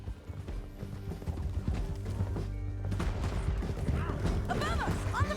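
Galloping horse hooves clip-clopping in a steady rhythm during a Red Dead Redemption 2 canyon ride, mixed with music and game effects, with some talk over it.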